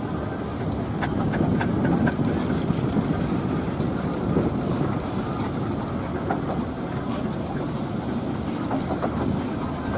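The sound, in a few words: steam engine in a rally parade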